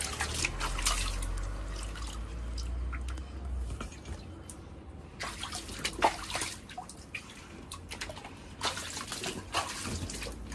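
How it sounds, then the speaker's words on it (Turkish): Water splashing and trickling in a toy pool during doll play, with irregular drips and small splashes, close by and fairly loud, no voices over the sound. "Elif her yeri sıçratmaya başladı"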